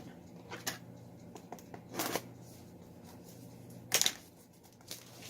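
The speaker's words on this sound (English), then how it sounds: "See if I can get this plastic off of here." Plastic wrap is tugged and peeled off a boxed diamond painting kit, giving scattered close crinkling rustles and a few sharper crackles between quiet pauses.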